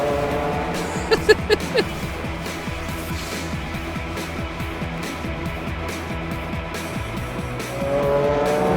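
Race cars roar through a Gran Turismo 4 race with loud, sustained engine drone, repeated gear-change surges and a few sharp bursts early on, the engine note rising toward the end.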